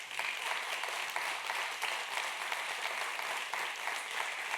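A church congregation applauds in a steady, dense wash of clapping that holds at an even level throughout, with no voices standing out.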